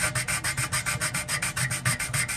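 Acrylic being sanded by hand with 2500 grit wet/dry sandpaper, a close, steady back-and-forth rubbing of about six strokes per second, each stroke a bright scratchy swish, with no voices.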